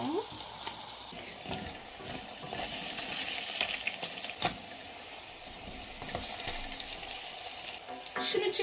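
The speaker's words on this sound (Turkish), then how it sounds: "mısır ekmeğinin şekli verelim ve kızartalım tek tek" Anchovy corn bread pieces fry in oil in a pan over medium heat, with a steady close sizzle broken by occasional scrapes and clinks of a utensil as the pieces are turned.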